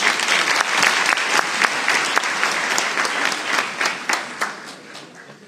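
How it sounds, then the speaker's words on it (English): A large audience at a Europe Day 2020 reception in Taipei breaks into sustained applause, dense clapping filling the room at steady strength before gradually thinning and fading toward the end. "Let's give him the biggest round of applause."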